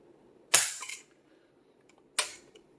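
Two sharp mechanical clicks, well apart, from a Geissele Super Sabra trigger pack fitted in an IWI Tavor SAR rifle being pulled during pull-weight tests; each snap is crisp and close, with a quiet pause between.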